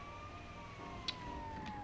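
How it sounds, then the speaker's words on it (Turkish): In a video game set in Los Santos, an ambulance siren wails faintly with a slowly sliding tone over steady background noise, and a single sharp click cuts in briefly. "dikkat dikkat dikkat dikkat ambulans geliyor ambulans geliyor ya"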